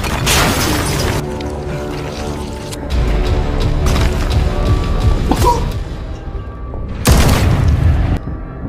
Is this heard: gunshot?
yes